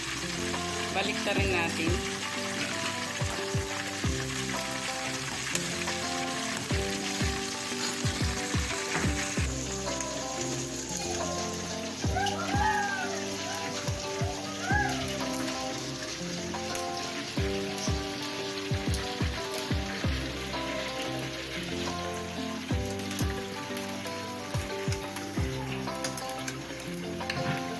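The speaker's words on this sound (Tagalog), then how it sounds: "Kumukulo, mamaya tumalsik." Steady crackling sizzle of pork frying in boiling oil runs throughout, with clinks of utensils and occasional brief talk over it.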